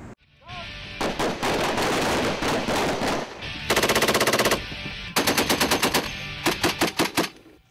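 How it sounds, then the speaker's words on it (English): Marines firing guns on a range at Camp Pendleton, with several loud bursts of rapid automatic fire broken by short pauses, the rounds crackling sharply in quick rhythmic strings. "That's the sound of Marines doing what they do best, sending rounds downrange"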